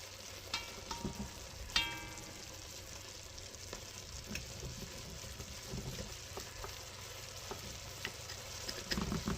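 Oxtails sear in a hot pan with a soft, continuous sizzle and crackle, broken by a few sharp pops and light clinks, all fairly quiet and with no talking.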